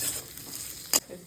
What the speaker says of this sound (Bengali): দিয়ে দিই পেঁয়াজ আর ক্যাপসিকাম দিয়ে, জোরে গ্যাস দিয়ে এটা নাড়তে হবে ভালো করে